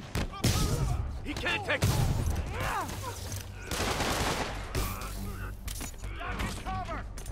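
Video-game gunfire bursts out in sharp volleys of shots and rattling fire, mixed with a busy game soundtrack while several voices shout and talk over it.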